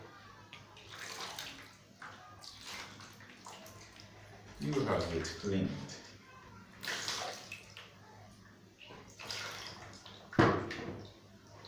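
Running water splashes intermittently as things are rinsed under a tap, in short bursts, with a person talking softly nearby.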